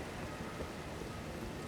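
Steady rain falls in Caelid in Elden Ring, a dense, even hiss of drops with no breaks, alone and without talk.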